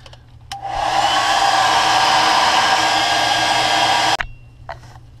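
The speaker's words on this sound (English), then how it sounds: "then I will heat set with a hairdryer" A hair dryer switches on and blows steadily at close range for several seconds, a loud even whoosh, then cuts off abruptly.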